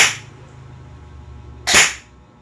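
Upgraded Amoeba Warthog airsoft rifle, fitted with a new spring, nozzle and cylinder for about 520 fps, firing two sharp semi-auto shots with a quiet gap between them.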